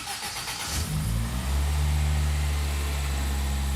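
Gemini car fitted with a new gearbox, its engine settling into a steady, loud low rumble after a brief rough start, running continuously and close by with no voices.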